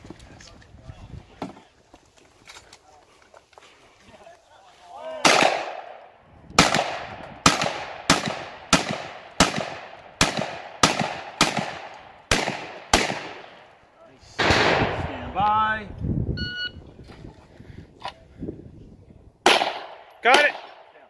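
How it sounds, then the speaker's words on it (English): A bump-fired gun at a 3-gun match, loud shots coming in quick bursts and clustered strings with short pauses between them, outdoors with people talking between strings. "I might just bump fire this."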